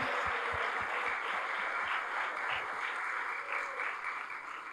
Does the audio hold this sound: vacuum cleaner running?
no